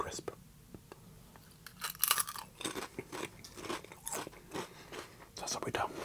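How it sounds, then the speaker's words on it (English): Crisps crunched and chewed close to the mic in a string of crisp, irregular bites and crunches, with soft whispered talk around them. "I need a bit of a crunchy, crunchy crisp."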